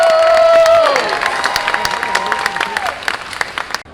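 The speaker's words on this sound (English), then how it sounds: "let's get a round of applause" Audience applause and cheering at a superhero car show and comic con, a loud burst of many hands clapping that starts under a fading voice, then gradually thins and dies away.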